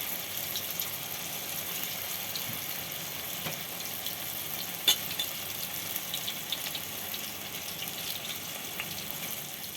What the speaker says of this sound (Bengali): ওগুলোকে আমি এবার একটা একটা করে আমি ভেজে নেব।